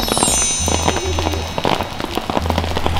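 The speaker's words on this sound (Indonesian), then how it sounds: "Hujannya sih nggak terlalu deres ya." Light rain patters and crackles on surfaces outdoors, with faint voices underneath.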